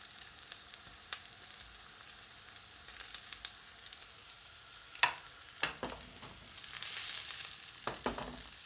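Onions with broccoli added frying in sunflower oil for a homemade vegetable-sauté noodle dish, a steady soft sizzle with scattered clicks and scrapes of stirring, close and alone without talk.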